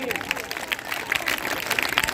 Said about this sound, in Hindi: आदरणीय मुर्सानी जी आए, जोरदार तालियों से स्वागत, जोरदार क्लैपिंग।